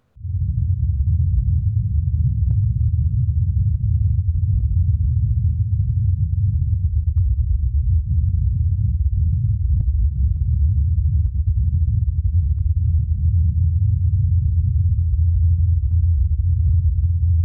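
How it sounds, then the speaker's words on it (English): A helicopter flying on Mars: a steady, muffled low rumble with a faint hum runs without a break, dull and distant, with no voices. "This is the sound of a helicopter flying on Mars."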